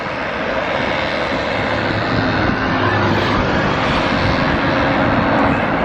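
A struggling two-stroke moped engine revs hard on a Moroccan countryside road, producing a loud, steady, droning buzz that holds without letup throughout, with no talk over it.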